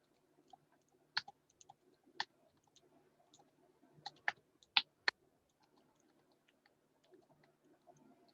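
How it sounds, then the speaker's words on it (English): Sparse computer keyboard typing with scattered single key clicks and a few brief bursts, quiet and close in an otherwise hushed room. "Oh, I'm typing."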